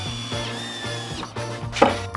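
A driver sends 1.5-inch wood screws into wooden photo shelves, a close steady motor whine cut by brief pauses and a sharp knock near the end.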